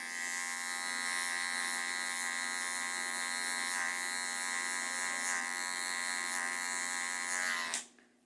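Electric hair clipper running with a 0 guard while trimming hair and beard, a steady close buzzing hum that holds evenly and then cuts off abruptly near the end.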